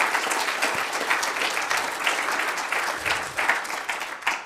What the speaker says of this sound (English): I think they're under a big round of applause